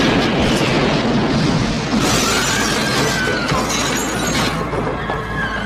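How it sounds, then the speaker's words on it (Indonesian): A large explosion tears through a church during a film scene: a loud, sustained blast with shattering and crashing debris, a roaring wall of noise lasting several seconds. "Lalu tiba-tiba, sebuah ledakan besar terjadi."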